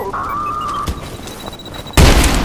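In the video game Trepang2, a rising electronic whine gives way to a few sharp bangs, then a loud burst of explosive noise near the end.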